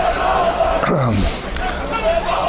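Crowd at a high school football game between Thomasville and Andrews, a broad murmur of fans under a commentator's talk, with a brief shout rising and falling midway.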